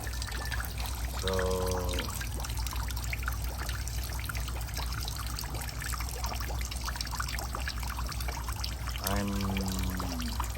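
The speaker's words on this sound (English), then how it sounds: "trying to fill up some water inside this pond" Water pours steadily into a drained, freshly brushed freshwater crayfish pond, a continuous broad splashing trickle throughout, with brief speech at the start and again near the end.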